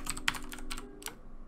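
Rapid key clicks from a computer keyboard while scripting FiveM code for GTA V, a quick close run of taps over a faint background hum.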